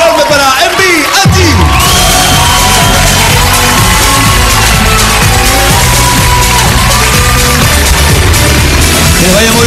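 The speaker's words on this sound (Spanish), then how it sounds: "El aplauso enorme para MVNG" A live TV talent-show gala audience erupts for the act MVNG, loud sustained cheering, whoops and yelling from a big crowd that swells after a brief opening and stays dense to the end.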